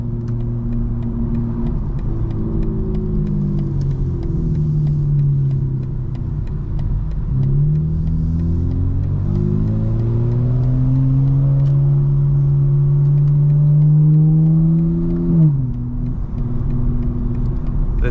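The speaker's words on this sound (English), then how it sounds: "This tunnel always provides a good opportunity to downshift. Let's hear it." A 2024 BMW M4 Competition xDrive (G82) downshifting inside a tunnel, its engine droning loud and close with rising and falling revs and echoing rumble across a long continuous stretch, no talk.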